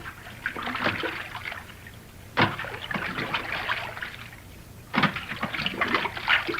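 Water splashes and sloshes around a small fishing boat in irregular bursts, with rhythmic strokes and trickling between them, in a 1949 radio drama.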